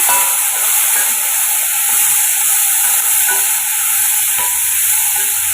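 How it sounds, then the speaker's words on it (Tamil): Green beans stir-frying in hot oil in a pan for a bean and lentil usili, a steady close sizzle and hiss with faint stirring scrapes throughout, no voices. "ஒரு 2 நிமிஷம் எண்ணெயில் பீன்ஸை வதக்கி விட்டுக்குங்க"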